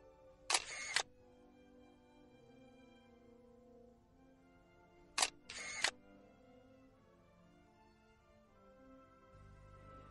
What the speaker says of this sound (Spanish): con esta velocidad el obturador tarda más en cerrarse y por lo tanto deja pasar más luz